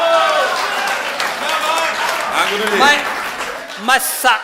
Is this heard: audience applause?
yes